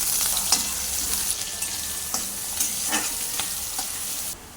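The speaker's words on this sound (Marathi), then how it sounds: "कांदा चांगला भाजून घेऊया" Onion frying in hot oil with cumin crackles in a continuous close sizzle, broken by a few soft scraping stirs of the spoon.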